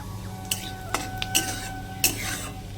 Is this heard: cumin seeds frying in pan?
yes